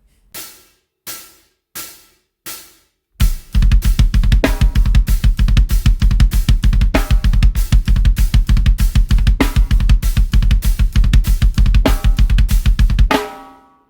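After four count-in clicks, a full drum kit plays a dense, driving groove at a moderate pace, with bass drum, snare and cymbals, loud and close.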